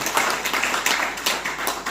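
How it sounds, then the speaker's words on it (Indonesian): Congregation at a Christmas church service applauding, dense rhythmic clapping from many hands filling the room, steady and fairly loud without talk. "Yang setuju, ayo sukacita berikan tepuk tangan."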